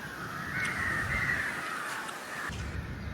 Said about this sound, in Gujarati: અહીંયા કાગડા પાણી પીવે છે ને અહીંયા થોડા કાગડા વધારે જોવા મળે છે